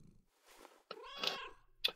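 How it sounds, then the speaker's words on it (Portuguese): House cat meowing close by, several short meows and a longer drawn-out cry with brief pauses between, fairly quiet and heard alone during a gaming livestream. "Ganda gato."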